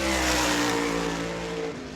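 A race car on a qualifying lap at New Smyrna Speedway during World Series qualifying roars loudly close by, with a sustained engine drone that eases slightly toward the end.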